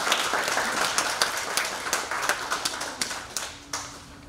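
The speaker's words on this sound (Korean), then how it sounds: "송창현 강사님을 큰 박수로 모시겠습니다" An audience claps to welcome a lecturer onstage. The applause begins full and brisk, then thins to scattered individual claps and fades out toward the end.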